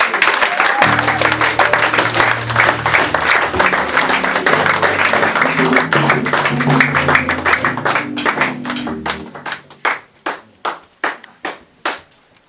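A church congregation applauds loudly and densely in a steady roar of claps over low sustained musical tones, then the clapping thins into scattered single claps before fading out.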